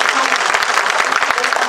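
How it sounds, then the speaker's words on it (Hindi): Close, lively applause from an audience at a Mumbai event, dense rapid clapping sustained evenly from start to finish without a break. "एक बार तालियां बजा के बहुत"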